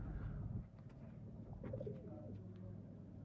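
Sialkoti Sheikhan-wala flying pigeons give soft, low coos a few times over quiet background rustle, faint and close by.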